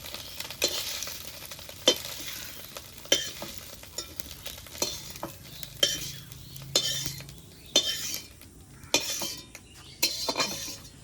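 Eggs fry in a wok as a spatula stirs and scrapes at a steady rhythm, each stroke a sharp metallic knock over a soft, constant sizzle.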